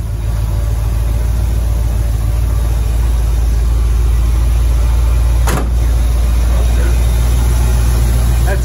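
A 1976 Corvette Stingray engine idling steadily and close up, a constant low rumble with no revving, with a brief soft knock partway through and no talking.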